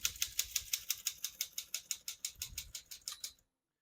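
Rapid, even keystrokes clack from a 1945 Smith-Corona portable typewriter, about five per second, crisp and fairly quiet, stopping abruptly after three seconds.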